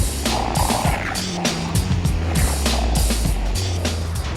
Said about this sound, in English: He used a clap sound and passed through granular synthesis came up with that.